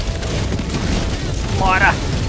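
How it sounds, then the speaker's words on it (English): Mortar blast in a war video game, a deep rumbling boom filling the scene with a brief higher burst near the end, loud and close under ongoing game noise. "This mortar's gonna fucking kill me again, isn't it?"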